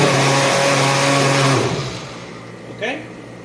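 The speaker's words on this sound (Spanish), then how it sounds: "Pero cuando le colocan el vaso, comienza a vibrar" An Oster blender with its jar fitted runs with a loud buzzing motor hum and vibration, then winds down and fades after about two seconds, followed by a brief faint sound near the end.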